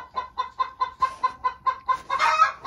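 Hens squabble over a nest box in a coop, giving a rapid run of evenly spaced clucks that builds into louder, agitated squawking near the end, fairly close.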